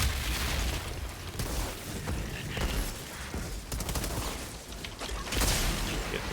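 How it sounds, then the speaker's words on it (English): Dense, continuous barrage of Earthquake skill explosions and gunfire from a Devastator in Outriders, fighting solo in the Chem Lab, with rolling booms and crackling bursts that never let up across the whole stretch. "Earthquake is very generous in the AoE, hits multiple targets."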